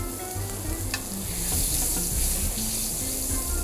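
Steak sears in a very hot pan over high heat, giving a loud, steady, dense sizzle that runs throughout with no voices, a faint clink of utensil near the first second.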